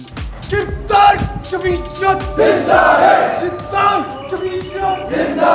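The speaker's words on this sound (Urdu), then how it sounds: "واپسی سے پہلے اسلامیہ کالج کی جمعیت ٹیم نے زبردست نعرے بازی کی" Islamia College Jamiat students chant slogans in unison, loud rhythmic group shouts rising and falling in repeated bursts, close by and echoing in the open air.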